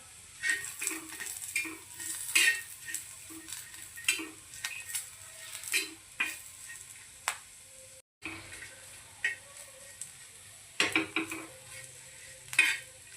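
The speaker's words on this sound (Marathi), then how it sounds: "तेल टाकन अपन अपने खडे मसाले भाजून घेऊया" Whole spices roasting in hot oil in a pan for a rustic village-style dry chicken dish, with a steady soft sizzle under repeated scraping and clinks of a spoon stirring against the metal pan, heard close up without talk.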